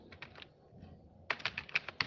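Rapid keystrokes on a computer keyboard while entering text in a CorelDRAW text tool: a short run of taps, a brief pause, then a denser, louder burst of clattering keys with no voices.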